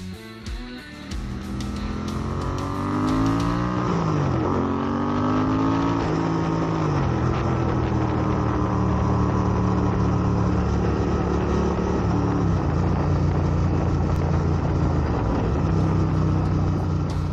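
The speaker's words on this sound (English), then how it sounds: "Let's take a second just to enjoy the soundtrack from this bike." A custom Royal Enfield Interceptor 650 twin fitted with a 2-into-1 exhaust, its engine revving up and down through several rising and falling pitch sweeps, loud and close throughout with a steady throbbing exhaust note and no talk.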